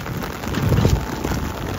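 Heavy rain pours down steadily out in the open, with a dense, continuous hiss and patter close by and low rumbling underneath.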